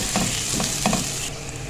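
Grated garlic and ginger with spices frying in a pan for a potato kabab snack, a steady close sizzle broken by a few scraping stirs of a spoon, with no talking.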